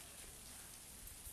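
The first rain of the season falls on a road in General Santos, a faint, steady hiss of drops spread evenly throughout with no voices.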